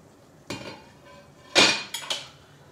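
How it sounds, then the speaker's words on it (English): A spoon spreads mashed potatoes on a plate, giving a few separate clinks and scrapes against the dish, close and fairly loud, with quiet gaps between. "So I'm just putting some mashed potatoes on a plate. Smush it around,"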